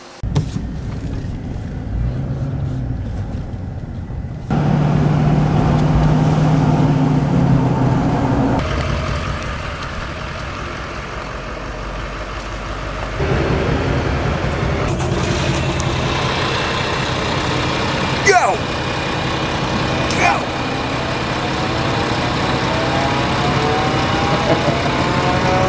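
A pickup truck engine hums and drones as it drives along a busy farm road between fields, steady mid-loud running with shifting load and a few brief knocks, no talking.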